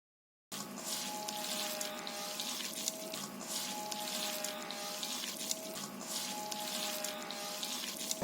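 Water pours steadily into a pan of potatoes and kachki fish, a continuous close rushing stream from a tap that starts abruptly after a brief silence and holds an even level throughout.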